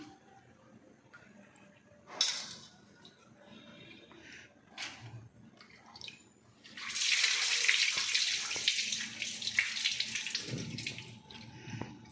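Water poured into lentil batter for garelu fritters, a faint trickle at first, then a steady splashing flow lasting several seconds before tapering off, with scattered clinks around it.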